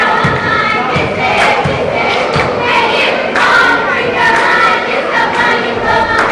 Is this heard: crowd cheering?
yes